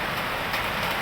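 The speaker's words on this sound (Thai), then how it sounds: "ฝนตก เนี่ย" Steady rain falls in a dense, continuous hiss, close and even throughout.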